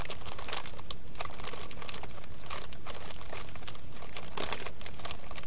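A flameless MRE heater pouch crinkles and rustles close by in a cold, rainy outdoor camp, continuous crisp plastic crackling handled steadily without talk.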